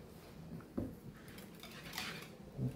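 Macaroni in a yellow mustard sauce being stirred in one pot with chicken, giving soft scraping and clinking of a utensil against the pot, with a couple of louder knocks, close and fairly quiet.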